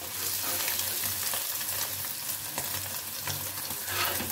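Egg frying in oil in a pan for an anda shami burger, a steady close hiss and crackle of sizzling that runs unbroken throughout, with no voices over it.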